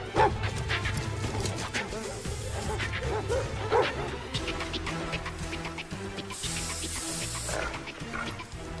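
Several dogs bark and yip repeatedly during a chase scene in a Jackie Chan action film, mixed into a dense, loud soundtrack with other noise and brief voices.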